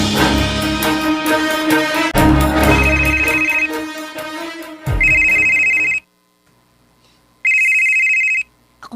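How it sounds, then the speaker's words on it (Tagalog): A mobile phone rings with a bright, repeating electronic ringtone melody, loud and close, cutting off briefly into silence before another short burst of ringing. "Akong cellphone."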